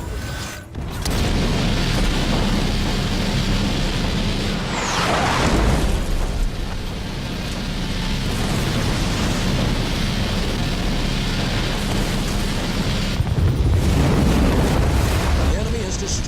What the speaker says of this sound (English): The enemy has destroyed one of our buildings.